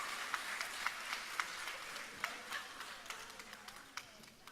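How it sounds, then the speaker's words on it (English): Applause from a graduation ceremony audience, a steady patter of many hands clapping, with a few sharper individual claps standing out, heard alone without speech. "So give yourself a healthy and hearty round of applause."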